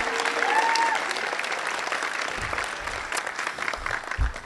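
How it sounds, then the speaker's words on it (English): Audience applause fills a school spring concert hall for a choir officer: a dense, steady clatter of many hands, fairly loud, fading slightly toward the end with a few louder claps near the close. "if we can have a round of applause for Ananya"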